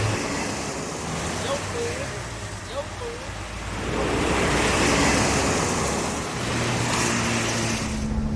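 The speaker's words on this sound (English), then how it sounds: "We've got a bit of a shower, a nice hot shower squirting out one of the hoses" Hot water sprays out of a burst radiator hose on a broken-down taxi, giving a steady broadband hiss and rush that swells midway, with faint voices underneath.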